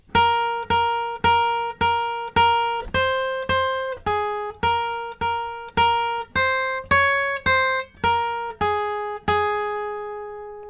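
Guitar playing the closing line of the solo from a song: a slow series of about fifteen clean, sustained single notes, each struck and left ringing, with the final note held and decaying.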